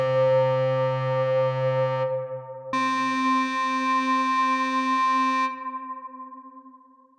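Two buzzy synthesizer oscillator tones play together, then shift through wave interference to a brighter, harsher combined tone that holds steadily before fading out.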